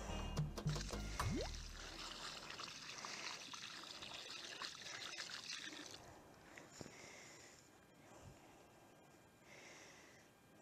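Water pours onto a newly planted privet hedge in a garden in March, a steady close splashing hiss that fades to a quieter trickle halfway through.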